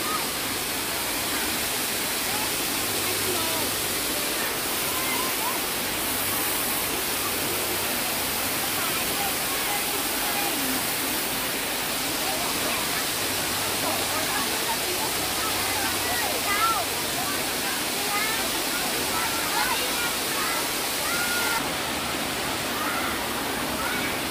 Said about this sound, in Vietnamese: chảy tự nhiên nước ngọt từ trong rừng trong hang đá ra